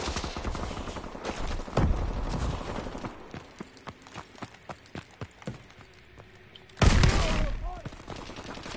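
Gunfire in Call of Duty: Advanced Warfare, with scattered heavy shotgun blasts over busy game noise and footsteps, one especially loud boom near the end, and someone talking at times.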